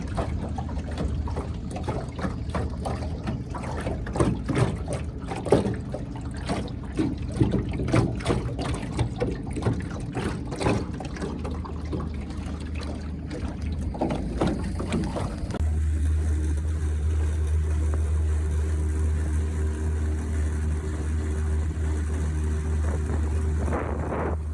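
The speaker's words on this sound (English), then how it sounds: "we rented a little motorboat and we motored all around the lake" A small rented motorboat cruises around a High Sierra lake: splashing water and wind noise at first, then a steady, loud outboard engine drone takes over for the rest, with no talk.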